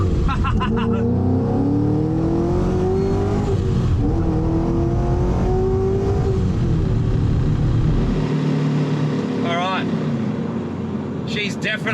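A supercharged Ford FG XR8 ute accelerates hard on its first drive, its engine note climbing in loud rising sweeps heard from close up, settling briefly between pulls, with voices talking over it.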